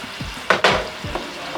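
Thinly sliced chicken sizzles in a pan for Japanese curry while being stirred and broken apart, with a few sharp bursts of frying and scraping close by.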